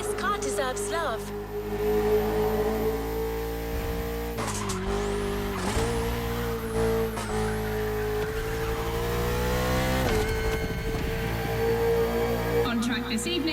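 Racing engines of a KTM RC16 motorcycle and a Ferrari 488 GT3 car in The Crew Motorfest on PS5 whine and shift pitch continuously, with rising gear changes and a steady high-revving drone, sounding synthetic like game audio.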